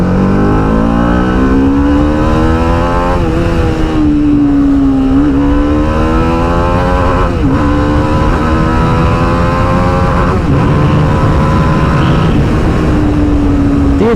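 An Apache RR310 motorcycle in track mode revs hard and loud, its engine pitch repeatedly climbing and dropping in long sweeps as it pulls through gears, close and continuous without speech.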